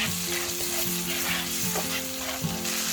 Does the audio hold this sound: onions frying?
yes